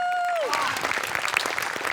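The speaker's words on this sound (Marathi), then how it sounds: "म्युझिकसाठी जोरदार टाळ्या व्हायला पाहिजे" A studio audience at a comedy sketch show bursts into loud, sustained applause and cheering, as a fading musical note gives way to dense clapping.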